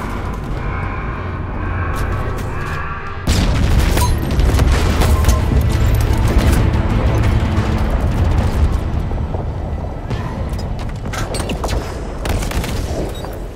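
A large explosion in the Halo Infinite campaign as a destroyed gun generator blows, a sudden loud boom at about three seconds that rolls into sustained rumbling blasts and crackling debris for the rest of the clip.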